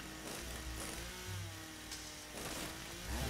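A chainsaw in the video game The Riftbreaker revs in uneven, buzzing bursts, its engine tone rising and falling against a busy game backdrop.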